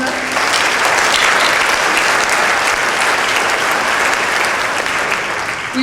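An audience at a fall community band concert applauds, a dense, even wash of many hands clapping at steady loudness for several seconds, with no voices over it.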